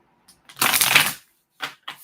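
Oracle cards from the Work Your Light deck are shuffled: one close, dense riffle burst followed by two shorter card flicks, with silence between and no talking.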